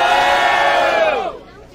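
A live audience at an Itaquera rap battle roaring and cheering for the MC FLP, loud and close, holding a long sustained shout before fading out.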